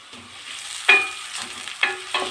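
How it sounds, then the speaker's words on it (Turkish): Ingredients sautéing in hot oil in a pan, a close crackling sizzle broken by a few sharp scrapes and stirs of a spoon. "Bunu birazcık kavuracağım sizlerle bir şimdi."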